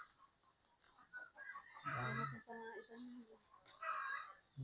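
A male turkey on a farm gives bursts of gobbling and clucking calls, two louder spells standing out, with people talking nearby.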